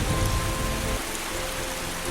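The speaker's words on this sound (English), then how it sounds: "the first rains quench the parched land" Steady rain falls on parched savanna ground in the Luangwa Valley at the start of the rainy season, a dense continuous hiss of drops on the surface with a heavier low rumble in the first second.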